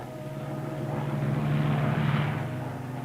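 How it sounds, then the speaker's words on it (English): A German warplane drones overhead in an old 16mm film, its engine swelling from a steady hum into a louder rumbling pass with a low propeller throb, then easing slightly, with no voices. "Then this German plane comes along and spots us."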